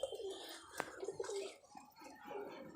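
Giribaz pigeons cooing at home near their nests, soft low throaty coos repeating through the moment, faint and close, with a brief sharp rustle partway.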